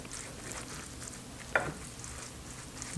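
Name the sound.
stirring ingredients together in a casserole dish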